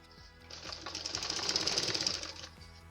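A sewing machine stitches a sleeve seam in one continuous run, whirring up to speed and slowing again, close and steady with no talk.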